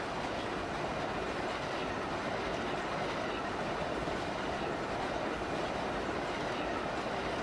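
A video game train rolling on rails, steady rumbling in a continuous broadband roar with faint rhythmic clatter, close and moderately loud, no voices.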